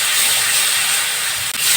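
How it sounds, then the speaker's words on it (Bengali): Ginger garlic paste fries in a pan for a Bengali doi chicken curry, giving a steady, loud, close sizzling hiss that runs unbroken except for one brief dip near the end. "এবার দেবো আদা রসুন বাটা, হালকা ভাজা করে নেব"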